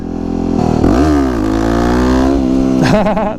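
A supermoto motorcycle engine revs hard during a wheelie, holding a loud, close, steady drone that climbs and dips in pitch before a sharp rise near the end.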